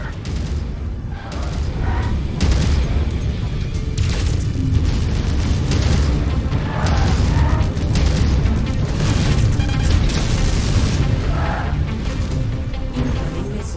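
Mech weapons fire nonstop in MechWarrior 5: Mercenaries, a loud, dense barrage of booming blasts and crashing impacts running unbroken for the whole stretch, with no clear gaps between shots.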